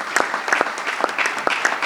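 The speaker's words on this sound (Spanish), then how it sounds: "Un aplauso, venga, un aplauso" Audience at a bullfighting magazine presentation in Alicante clapping, a short stretch of close, distinct handclaps in a loose, irregular rhythm.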